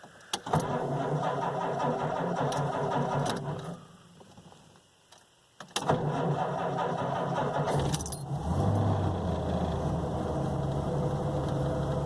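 A Hudson Hornet with Twin H Power cranks and catches, its engine firing into a loud rough idle that falters and goes quiet for a moment, then restarts with a sharp catch and keeps running up close, with clicks and keys jangling.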